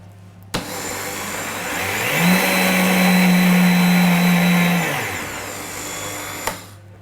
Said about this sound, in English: if you keep blending coconut you can actually create your own coconut butter